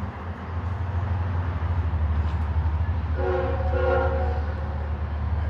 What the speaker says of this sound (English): Yeah, you hear the other train.